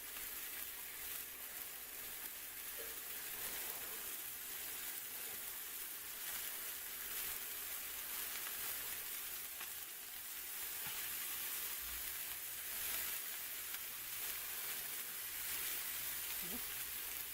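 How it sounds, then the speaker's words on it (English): Burgers sizzle in a hot cast iron skillet over medium heat, a steady, fairly faint crackling hiss running unbroken throughout with no talk. "We'll let those sizzle away for about 2 to 3 minutes on this side"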